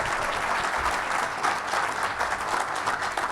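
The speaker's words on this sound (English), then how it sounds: "So let's give one more big round of applause for Telisa coming out tonight." Sustained applause from an evening event crowd for an insurance company president, dense even clapping at moderate distance with no speech over it.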